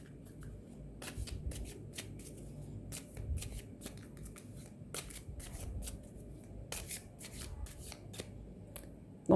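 Tarot cards being shuffled by hand, a repeated soft riffling and flicking of card stock with sharp snaps and slaps at irregular intervals, close and fairly quiet.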